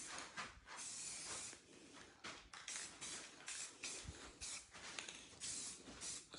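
Short hissing bursts from a can of spray paint applied to an epoxy project, several quick sprays in a row with brief pauses, quiet and close.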